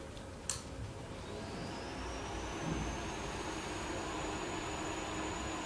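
A ventilation hood fan is switched on with a sharp click, then settles into a steady whooshing airflow with a thin whine that climbs and holds. It is fairly quiet, with no talk.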